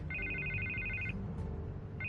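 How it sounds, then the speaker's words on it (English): A telephone rings in the Batman Telltale Series video game, a repeating electronic trill pulsing for about a second, pausing, then starting again over a steady low background hum. "I can't get the phone to stop ringing."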